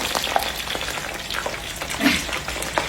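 Shrimp frying in a hot pan gives a steady, close crackle with scattered sharp pops and sputters, with no voices over it.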